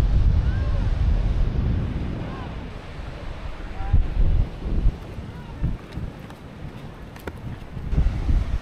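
Strong wind buffeting the microphone by the sea on a remote coast, a loud continuous roar with gusty bursts and a wash of surf beneath, someone talking at times.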